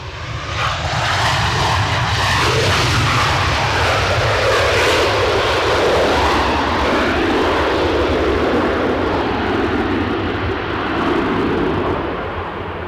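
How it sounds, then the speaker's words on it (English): An airliner touches down at Edinburgh Airport in strong 40 mph winds, its engines roaring loud and close in reverse thrust, a sustained broadband rumble that holds steady and then slowly eases. "With a puff of smoke and a healthy dose of reverse thrusters"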